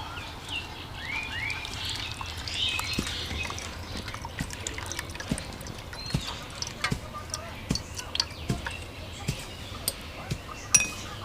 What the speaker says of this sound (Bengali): এবার এটাকে আমরা ছেঁকে নিচ্ছি